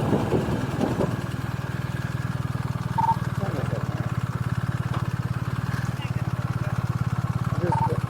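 A motorcycle engine drones steadily throughout during a police chase, a rough low rumble at fairly constant pitch, with faint police radio chatter and beeps over it.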